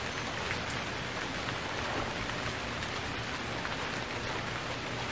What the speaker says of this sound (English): Look at that cloudless sky raining.